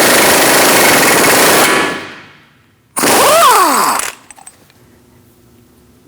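A 32mm axle nut being spun off a 2016-2019 Chevrolet Cruze front hub with a power tool, a loud sustained rattling burst, a pause, then a second shorter burst winding down before quiet.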